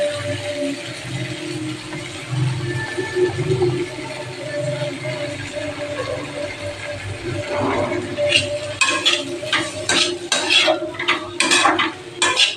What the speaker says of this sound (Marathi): आपण ह्याच्यात आता हे चपात्याचा चुरा टाकून घेऊ